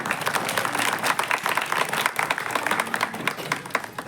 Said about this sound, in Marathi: एकदा जोरदार टाळ्या वाजवूया